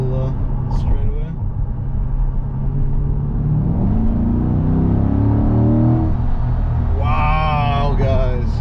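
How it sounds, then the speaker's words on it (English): A 2021 Chevrolet C8 Corvette accelerates hard on a straightaway, its engine note climbing steadily from a low rumble into a rising whine heard from inside the car, with someone talking over the cabin noise near the end. "All right, one more acceleration for the boys."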